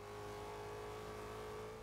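A Nissan GT-R engine in Forza Horizon 2 holds a steady, droning rev at constant pitch, smooth and sustained throughout, fairly quiet with no talk.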